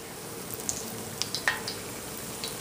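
Crawfish fritters dropped into hot oil, giving a steady faint sizzling hiss with a few small crackling pops, no talking.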